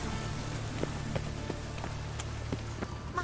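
Rain falls steadily in the video game The Witcher 3: Wild Hunt, a constant patter with scattered sharper drop-like taps and faint hoof-like thuds beneath it, moderately loud and without speech.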